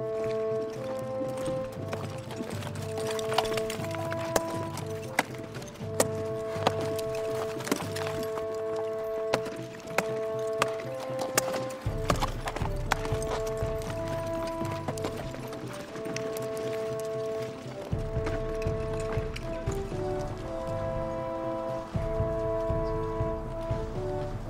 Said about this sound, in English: What's the horse called?